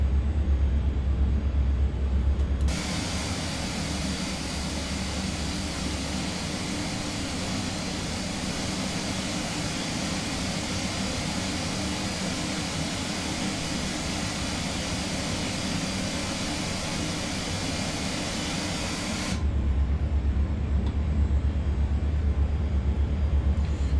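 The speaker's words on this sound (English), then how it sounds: "taxi straight ahead, left hand turn right onto the runway, and then we'll backtrack for a full length departure" Airbus A400M turboprop engines drone steadily while the aircraft taxis to the runway, a loud continuous broadband roar heard from inside that swells in after a few seconds and drops back near the end.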